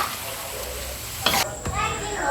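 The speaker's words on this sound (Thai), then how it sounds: "อันนี้เราผัดหมูกะปิค่ะ" Pork belly fries with shrimp paste and stink beans in a pan, a close sizzle broken by a couple of sharp spatula scrapes as the mix is stirred, no speech.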